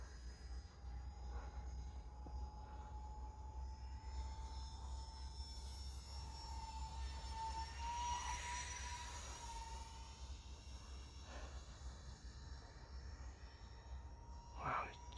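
A micro B-2 RC model plane flying at half throttle outdoors in calm weather, giving a thin, steady electric whine over a low rumble, with the pitch shifting slightly as it passes and then moves away.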